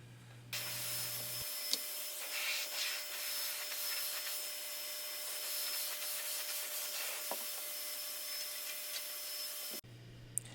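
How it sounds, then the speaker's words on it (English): Cabinet doors get a light hand sanding with 220-grit paper, followed by a vacuum drawing dust off the surface: a steady rushing, rubbing hiss that runs continuously with small scrapes, close and fairly even, with no talk. "I'm doing a light sand with 220 grit. And you can see I'm vacuuming them off right away."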